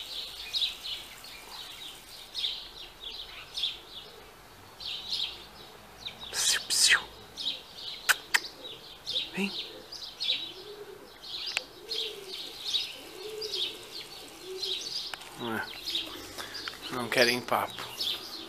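Pigeons coo repeatedly in soft, rolling calls near and far alongside chirping birds, while a person speaks briefly in Portuguese over the outdoor background.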